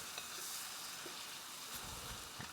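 Butter and brown sugar melt together in a preheated hot skillet for bananas foster, making a faint, steady sizzle with a few light stirring scrapes and no talk.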